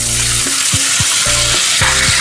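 One large chopped tomato fries in oil, a loud constant sizzle with several short stirring scrapes, while heavy rain falls.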